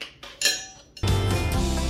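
A manual pull-cord chopper cuts onion into chunks: a couple of light plastic clicks as the lid closes, then a loud whirring rattle of blades spinning inside the bowl.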